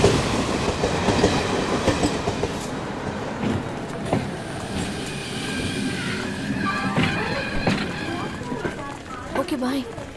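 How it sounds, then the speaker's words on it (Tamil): A passenger train arrives and runs along the platform with a steady rumbling roar and rhythmic clickety-clack of wagons, while people talk nearby and background music plays in a Tamil film scene. "எது ட்ரெயின் வந்துச்சு."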